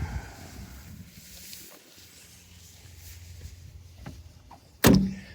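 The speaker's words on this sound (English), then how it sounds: "We'll exit the car here via the suicide door." The rear suicide door of a vintage car opens with a single loud metallic clunk near the end, after a stretch of low, quiet rustling and handling noise.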